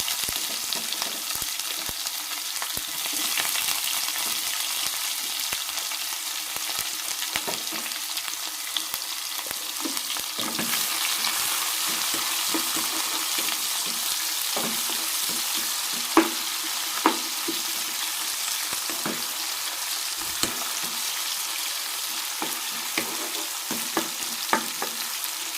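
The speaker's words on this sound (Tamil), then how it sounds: "கடலைப்பருப்பு உளுத்தப்பருப்பு ஸ்லோ ஃபயரில் கொஞ்சம் க்ரன்ச்சாக வர மாதிரி வதக்கி விடுங்க." Chana dal and urad dal sauté in a pan over slow fire, giving a steady soft sizzle with scattered small crackles and pops throughout.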